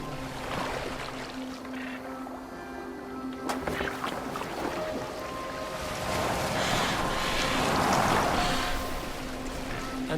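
Boat gliding over water in Assassin's Creed Valhalla, with lapping waves and a soft flowing wash, plus faint tonal music and sparse muffled voices.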